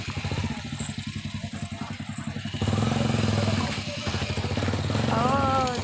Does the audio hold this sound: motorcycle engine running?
yes